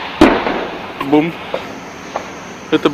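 Gameplay in a military video game: a sharp explosion from an anti-tank guided missile bursts near the start, followed by several smaller pops and thuds, with people talking over the action.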